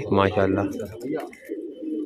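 A flying pigeon coos close by in a short throaty burst, and someone speaks over it and after it.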